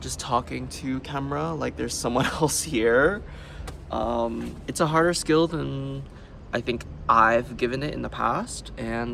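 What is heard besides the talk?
None of the usual background noises is heard.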